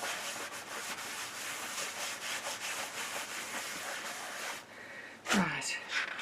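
Repeated rubbing strokes over a craft transfer sticker make a dry, scratchy, rhythmic friction sound for several seconds, then stop; a voice briefly joins near the end.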